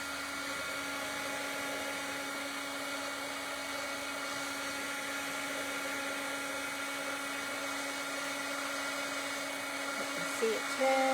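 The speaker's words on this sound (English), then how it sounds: "And then bring in the heat embossing tool, the heat tool." A heat embossing tool blows hot air over a stamped card in steady, continuous whirring that stays constant throughout and is fairly faint, with a slight bump near the end.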